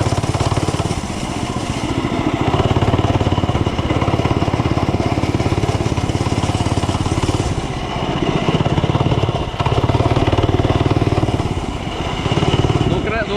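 A small mini bike engine revs and drones steadily while being ridden over muddy ground, loud and close, with brief dips in throttle around the middle and near the end.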